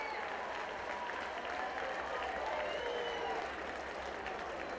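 A crowd of about 5,000 at a high school baseball state championship game stands and cheers and applauds, a loud continuous roar of clapping and shouting that stays heavy throughout.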